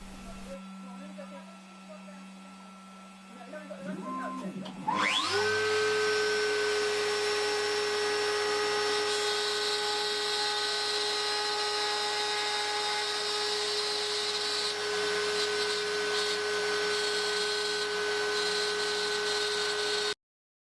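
CNC router spinning up and cutting clamped wood, a steady high-pitched whine with strong harmonics that starts after a short quieter stretch and then holds loud and constant for the rest.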